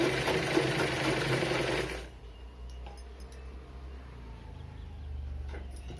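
A sewing machine stitches two layers of fabric in a steady, fast whirring run that stops after about two seconds, leaving a quiet hum with faint clicks and handling sounds.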